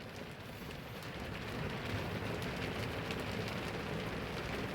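Heavy rain pours during a storm, a dense, steady hiss of drops hitting surfaces that grows a little louder after the first second, with no voices.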